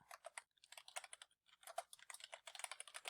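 Quick typing on a computer keyboard, a soft, fast patter of key clicks in two bursts with a short pause between, close and quiet.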